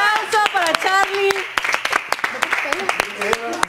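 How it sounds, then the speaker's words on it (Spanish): A studio audience applauds and claps at a Mexican singing academy show, sharp claps scattered under loud, lively talk and voices throughout. "Un aplauso para Charlie."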